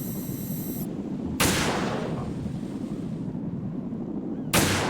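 Gunfire in Metal Gear Solid 2: two sharp, loud shots about three seconds apart, each trailing a long noisy decay over constant background hiss.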